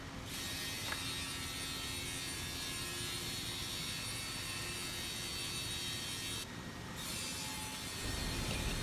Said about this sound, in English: we will use this CNC machine to cut in the four edges of MGO board according to customer's requirement size.